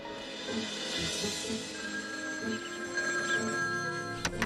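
An old-style telephone rings with a steady, continuous electronic bell, fairly loud and close, ending with a few sharp clicks.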